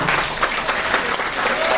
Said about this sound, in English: Give them a big round of applause for making this possible.